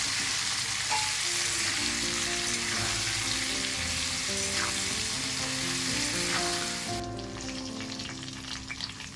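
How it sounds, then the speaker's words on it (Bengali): Potato and cauliflower pieces frying in hot oil give a loud, dense, continuous sizzle and crackle, with occasional stirring, that eases slightly toward the end. "আলু আর ফুলকপি লাল লাল করে ভেজে নিয়েছি"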